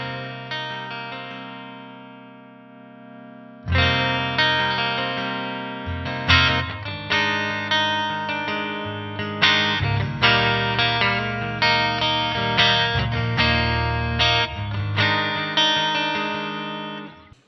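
An electric guitar plays through a NUX Amp Academy Twin Reverb amp model: a sustained chord rings alone, then strummed chords and picked notes follow in a steady rhythm, clean and loud with a lingering tail.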